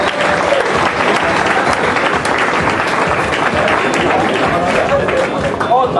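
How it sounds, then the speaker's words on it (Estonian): Audience applause at a club-ranking awards ceremony, dense steady clapping from a large crowd lasting throughout, loud and sustained with faint voices mixed in. "Palun veel kord aplaus, klubide arvestuse parimad!"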